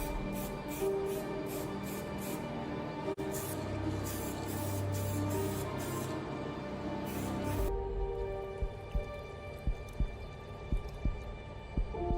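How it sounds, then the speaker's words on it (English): A spray gun hisses while laying base coat paint onto a BMW car shell during a restoration, with a run of loud, close, pulsing bursts followed by a steadier hiss marked by a few sharp clicks. "The spray gun hisses to life."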